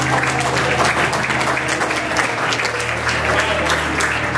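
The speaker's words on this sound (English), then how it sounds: "Give the Lord a great hand clap of praise." A church congregation claps in praise during a worship service, a loud, dense, continuous wash of hand claps with a low hum beneath and no voices over it.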